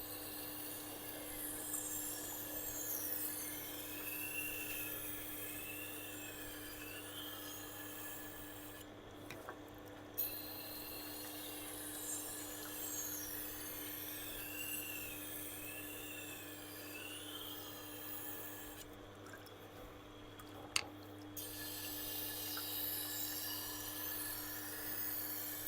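A knife blade is sharpened on a 600 grit diamond abrasive to repair a large chip, giving faint, steady back-and-forth rubbing strokes with a couple of brief pauses and a small tap, no voices.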